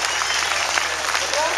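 An audience at a talk on parenting claps steadily and loudly for the whole short stretch, with voices mixed into the applause.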